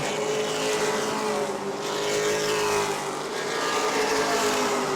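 A pack of race cars thunders around the New Smyrna oval track, engines droning loudly and continuously, with slight swells as cars pass and jostle for position.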